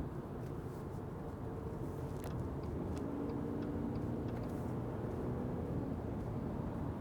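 Steady road and cabin noise inside a 2024 Subaru Forester Wilderness cruising on the highway, a continuous low rumble of tires and wind with no talking.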